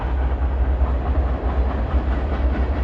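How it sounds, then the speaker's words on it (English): A train rolls past close by with a dense, continuous low rumble and steady rail noise that keeps up for the whole stretch, with no other sound on top. "Oh, train."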